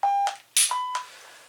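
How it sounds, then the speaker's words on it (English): Electronic beeps from a shot timer signal the start of a shooting drill with a Glock 23 Gen4 pistol at a range: a steady tone, then a burst and a second longer tone, loud and close, with no talk. "The first beep is just letting you start."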